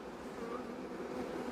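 Honeybees from a hive colony buzz close by in a fast, steady drone as they beat their wings while trying to sting a hand, faint and continuous.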